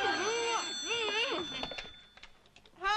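A telephone in a Japanese detective-drama office rings with warbling electronic bursts, two clear rings followed by a third starting at the end, fairly close and alone.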